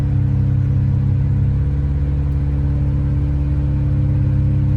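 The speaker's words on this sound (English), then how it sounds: "For some reason, the car is just like losing fuel and then going back up." A BMW 335 engine runs loud and close with a steady low rumble, misfiring as it seems to lose fuel and then rev back up, with no talking over it.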